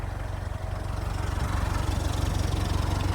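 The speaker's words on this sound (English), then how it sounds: "the car's on" A Jaguar car engine, started remotely, idles steadily, a low, even rumble that holds constant throughout with no revving.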